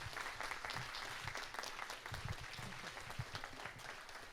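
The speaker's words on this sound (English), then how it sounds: "Please applaud for Declan Power." An audience at a documentary screening applauds steadily and fairly loudly, dense clapping sustained throughout without a break.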